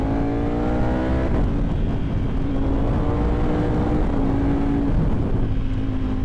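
A Ducati motorcycle engine drones loud and steady while riding, with harmonic pitch that rises and shifts as it accelerates, under a constant rush of wind, with no talk.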